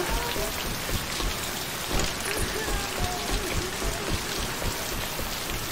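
Rain falling in the zombie shooter Left 4 Dead 2, a dense, loud and constant hiss of drops pattering on surfaces, steady throughout with no voices.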